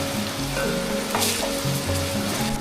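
Garlic-ginger paste fries in a pan with a dense, continuous sizzle that stays loud and steady throughout, with no voices.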